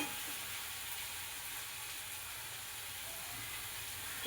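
Spice paste sizzling in hot oil in a pan while cooking dried bombil chutney, a steady broadband hiss and crackle that holds evenly throughout, close and moderately loud, with no talk over it.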